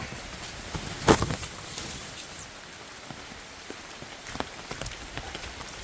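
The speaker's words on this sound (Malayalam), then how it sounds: "മഴ പെയ്ത് തകർക്കുകയാണ് നല്ലതായിട്ട് മഴ പെയ്യാണ്" Steady heavy rain hisses and patters on a surface, with a few sharper drops and splashes standing out now and then.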